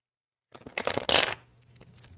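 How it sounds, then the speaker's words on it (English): A deck of tarot cards is riffled and shuffled in a brief, close burst of papery flutter that swells and then settles into soft handling. "these cards just do not want to shuffle the way I want them to"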